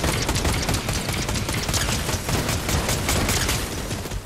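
Rapid gunfire from people shooting in a video game, a dense unbroken crackle of shots that stays loud and close the whole time with no pauses and no talk over it.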